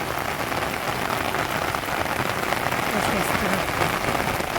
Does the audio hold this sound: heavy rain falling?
yes